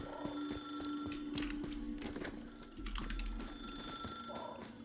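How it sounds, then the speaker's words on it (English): A telephone ringing in the survival game Once Human, faint and distant, a repeated electronic trill sounding through a low ambient hum with soft scattered clatter. "I hear a phone."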